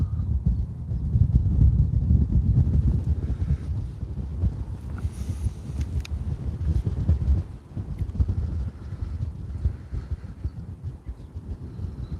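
Wind buffets a microphone clamped to a fence at an outdoor railway livestream, producing a continuous loud low rumble and roar that surges and eases, with no voices.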